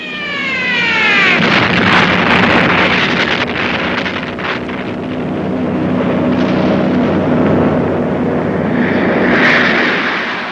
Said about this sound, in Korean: 영영한 아군 전투기들이 가증한 적기들을 맹렬히 추격하고 있습니다.